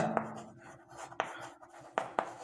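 A pen or marker writing numbers on a board during a fifth-grade decimals math lesson, producing a few close, crisp taps and short strokes spaced irregularly, with no talk.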